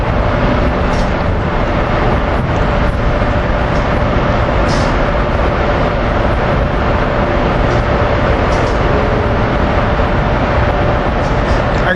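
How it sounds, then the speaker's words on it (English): A slow freight train passing at 30th Street station, a loud, continuous rumble and roar of wheels and engines, close and unbroken throughout with no talk. "It's a very slow freight train."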